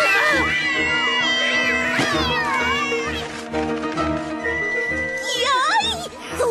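Several small cartoon cats meow and yowl in overlapping, rising and falling cries over background music, loud and close, with excited voices mixed in.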